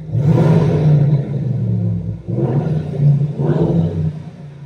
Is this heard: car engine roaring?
yes